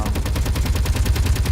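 An automated turret in the Space Engineers video game fires at the player in a steady, rapid, loud stream of shots, evenly spaced bursts continuing without pause through the brief stretch.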